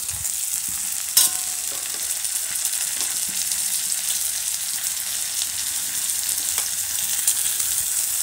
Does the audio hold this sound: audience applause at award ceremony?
no